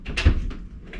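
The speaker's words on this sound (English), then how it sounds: "So can you open the door now?" A door opens with a short clunk of the latch and a soft rattle, close by and moderately loud, followed by quieter shuffling.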